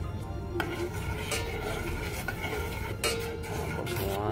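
Ground coffee being stirred into water in a pot over an open flame, with repeated close metallic scrapes and taps of a spoon against the pot over a continuous low rumble, no voices.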